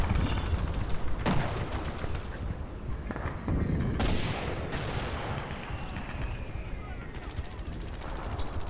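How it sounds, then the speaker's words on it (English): A Panther tank's main gun fires in a World War II battle game at Küstrin, heavy booms standing out over dense, continuous gunfire and rumbling combat noise, with voices talking throughout. "I think the Panther's still firing its main gun at me there"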